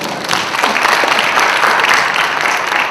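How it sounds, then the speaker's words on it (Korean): Audience applause at a lecture concert, a dense, steady wash of clapping from a large crowd sustained throughout without a break. "박수 한번 주세요."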